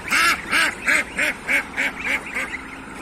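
Geese on a farm call in a run of about eight loud, nasal honks in quick succession, close by and alone.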